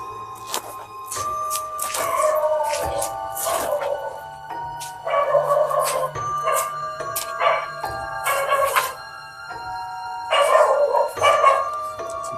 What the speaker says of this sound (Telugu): కుక్కలు మస్తు అరుస్తున్నాయి